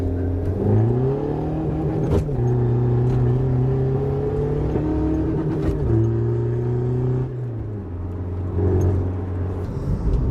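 Opel Corsa engine held against the rev limiter, a loud steady droning rev with stepped pitch shifts and brief cut-outs, close and continuous throughout.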